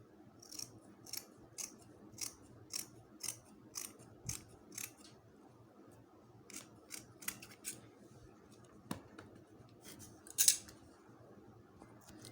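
Scissors cut fabric pieces for dolphin-style sports shorts, giving a steady series of faint, crisp snips about every half second, close by in a quiet room.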